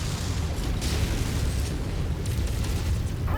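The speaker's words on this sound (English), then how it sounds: "Incoming missile." A missile blast in the mech combat game MechWarrior 5: Mercenaries, heard as a sustained, heavy low rumble that stays loud throughout with no voices.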